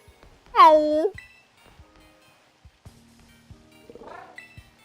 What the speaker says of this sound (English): Y'all hear the cat scream?